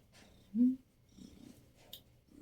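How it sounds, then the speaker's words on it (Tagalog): A single short cat meow rises once, fairly close, followed by quieter low rustling and soft breathy sounds. "Miyaw siya ng miyaw."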